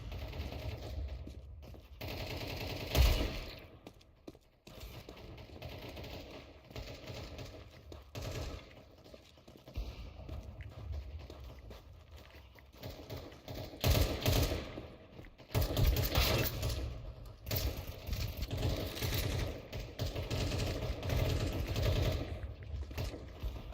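Automatic AK rifle fire in a video game, rattling in repeated rapid bursts across the whole stretch, loud and close with a few sharper single cracks.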